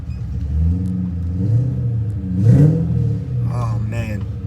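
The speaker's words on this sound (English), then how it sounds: "This car sounds awesome." A Chevrolet C6 Corvette engine rumbles low and steady with a brief rev swell midway, heard close with voices talking over it throughout.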